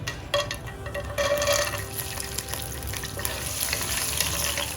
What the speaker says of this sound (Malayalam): നമുക്കിതിനകത്തേക്ക് അണ്ടിപ്പരിപ്പ്, മുന്തിരി ഇട്ട് കൊടുക്കാം.